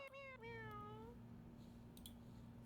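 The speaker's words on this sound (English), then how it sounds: "Why are they meowing so much?" A single cat gives a drawn-out, rising-then-falling meow over a quiet, steady electrical hum, followed by faint clicks.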